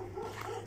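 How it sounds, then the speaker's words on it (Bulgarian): Dogs tied up on a plot of land near the Maritsa river in Dolna Banya bark faintly in the distance, a low, steady background of yelps with no talking over them. "Но са вързани тия кучета, дето лаят"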